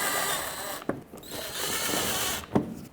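A power drill drives 7mm screws into an underbody shield on a 2007-2009 Saturn Aura, heard as a steady close whirring hum with two brief sharper bursts as screws seat.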